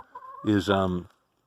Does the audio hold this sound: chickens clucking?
yes